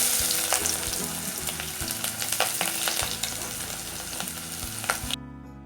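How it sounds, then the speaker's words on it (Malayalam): Ginger, garlic and green chillies sauté in a hot pan for a Kerala-style crab roast, giving a steady close sizzle broken by spoon-stirring scrapes until it cuts off abruptly near the end. "ഇനി ഇതിൻ്റെ പച്ചമണം മാറുന്നത് വരെ ഒന്ന് നന്നായിട്ട് വഴറ്റിയെടുക്കാം"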